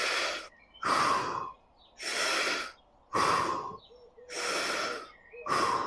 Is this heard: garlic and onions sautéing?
no